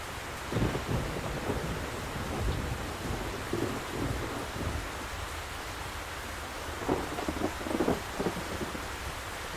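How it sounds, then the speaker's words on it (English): Heavy rain pours steadily and loudly, a constant hiss with faint low rumbles and occasional swells, and no voices over it. "I kind of like the rain being this loud."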